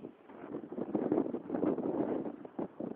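Strong wind roars and buffets steadily against the microphone in uneven gusts at a ski jump, with no voices.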